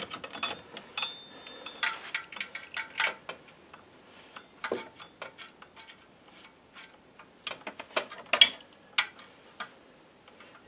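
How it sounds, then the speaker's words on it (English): A wrench works loose a fitting on an air pig tank, giving scattered sharp metallic ticks and clicks, close and fairly quiet, arriving in irregular clusters with short pauses between them. "I'll get a wrench to take this off."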